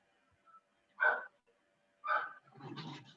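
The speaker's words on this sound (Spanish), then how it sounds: "¿se oye mucho el perro de mi vecino?" A neighbor's dog barking at a distance, a few separate sharp barks with quiet gaps between them, faint and alone.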